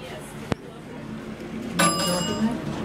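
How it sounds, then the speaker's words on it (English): Chime of an old Montgomery elevator at a Nordstrom's store in Westfield Mall, Escondido: a bright, ringing tone that sustains and fades, preceded by a sharp click, with people talking nearby. "That's a weird chime."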